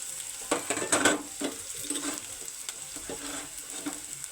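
Carrots go into a frying pan and are stirred, with soft sizzling, scraping stirs and a few clatters from the utensil, moderately close.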